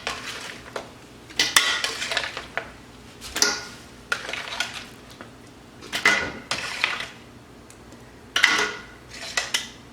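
Beef bones browned by roasting and chopped vegetables are loaded into a stock pot, giving irregular bursts of clattering and knocking from metal and ceramic, loud and close, with short pauses between each thud and clank.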